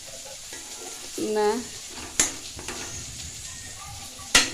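Masala fries in a pan for a village-style desi fish curry, with a steady, faint sizzle. Stirring scrapes and two sharp metal clinks cut in, and a brief spoken word is heard.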